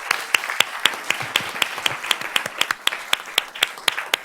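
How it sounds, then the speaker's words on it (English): Only a few people clap at a Board of Trustees meeting, in distinct, fairly regular slaps that are close and clear, with no talk over them. "Let's give her a round of applause."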